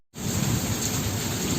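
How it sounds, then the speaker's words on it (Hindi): Steady rain falls outdoors in Korba, a dense, even hiss that starts abruptly and continues unbroken, with no voices. "तब बारिश के मजा लेवा संगवारी हो,"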